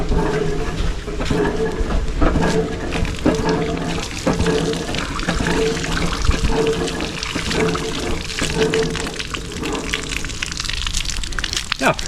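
Fresh water running from an outdoor water pump near a rocky coast, a steady splashing pour with irregular knocks and clatters, while people talk nearby throughout.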